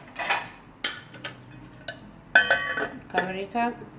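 A metal lid goes onto a pot of butternut soup on the stove, giving several sharp clinks and clatters in irregular bursts, close and fairly loud.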